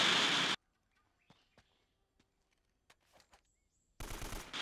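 Pistol gunfire in the video game Uncharted: Drake's Fortune comes as two loud, dense bursts, one at the very start and one at the end, with sparse faint clicks and small game sounds between them and no talking.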